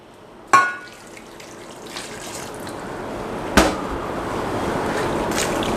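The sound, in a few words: pouring about 2 cups of water into shami kabab mixture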